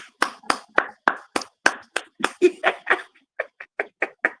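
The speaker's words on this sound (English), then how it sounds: "let's give them a round of applause" A lone person claps slowly and crisply, about sixteen distinct claps in an even rhythm with a short pause before the last few, close and clear with no crowd.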